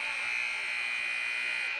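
Buzzer sounding at the end of the half in a women's college basketball game between LA Tech and WKU, a steady loud electronic buzz held continuously throughout.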